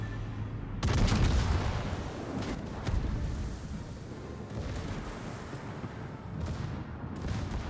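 Warship secondary guns firing in a naval video game: a heavy opening boom followed by a rolling series of repeated gun blasts and rumbling impacts, loud and dense throughout.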